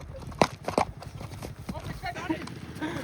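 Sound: horse hooves clip-clop

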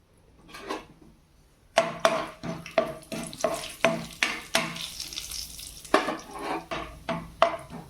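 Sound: frying chana dal and urad dal for tempering

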